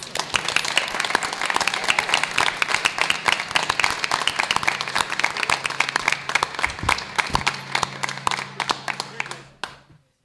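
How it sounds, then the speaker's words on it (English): Audience applause at a school board meeting, steady crisp clapping from a modest crowd in a room, holding for about nine seconds before tapering off abruptly. "can we please give a big round of applause?"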